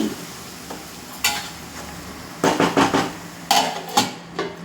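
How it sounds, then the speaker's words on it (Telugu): A spoon scrapes and clanks in a pan as paste is stirred into an okra curry with tomatoes and green chillies, making several sharp metallic knocks over a soft background sizzle, with no talking. "పేస్ట్ వేసేసాను కదండి ఇది బాగా మిక్స్ చేసుకొని"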